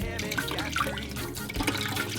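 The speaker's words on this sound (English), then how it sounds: "you can kind of see the water coming out of the tube right there" Water pouring out of a PVC tube into an animal cage setup, a continuous splashing, gurgling flow heard close up with no talking.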